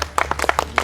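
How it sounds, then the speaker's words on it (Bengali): A few people clapping hands in a Sylheti village drama scene: a short burst of scattered, uneven claps, close and fairly loud. "সবে হাততালি দাও"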